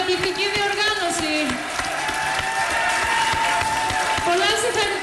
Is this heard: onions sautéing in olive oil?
no